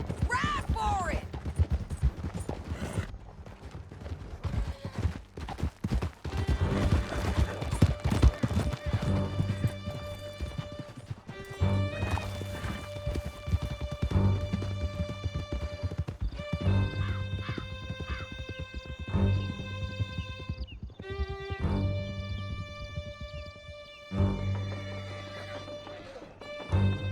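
Galloping horses in Red Dead Redemption 2, a canyon chase with hooves clip-clopping steadily under music and scattered gunfire, with occasional whinnies and voices talking over the ride.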